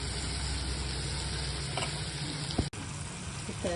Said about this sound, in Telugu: ఇప్పుడు మనం అల్లం వెల్లుల్లి పేస్ట్ వేసుకుందాం. ఇది కూడా కొంచెం వేయించుకుందాం.